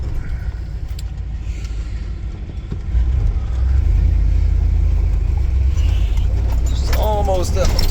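A 1951 Ford F5 truck with a fuel-injected 460 engine rumbles loud and low while running, its note stepping up in intensity partway through, with wind buffeting and a voice speaking over the engine.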